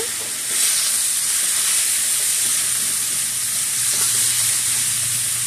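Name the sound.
stirring radish and shrimp frying in a pan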